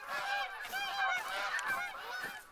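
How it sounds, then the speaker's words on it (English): Geese honk in a flock within theHunter: Call of the Wild, a steady overlapping chorus of nasal calls that carries on without pause, fairly close and with no voice over it. "we'll just see about trying to get that one goose, because I'm now, like, literally surrounded by the flocks"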